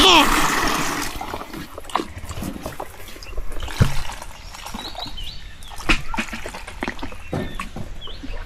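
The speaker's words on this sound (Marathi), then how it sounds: "हे थोडं पाणी याच्यात टाक" Water poured and splashing into a container in a village setting while mangoes are handled, with intermittent trickles and splashes under ongoing conversation.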